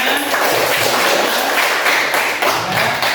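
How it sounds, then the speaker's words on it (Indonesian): Students in an accounting class clap their hands together, a loud, close, dense burst of clapping with uneven beats that carries on for the full three seconds. "Tepuk tangan untuk kita semua."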